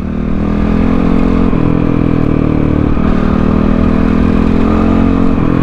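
A CX 250 SE dirt bike revs loud and close on a highway, its engine note holding steady with slight rises and dips throughout.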